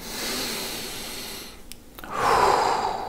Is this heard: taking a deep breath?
yes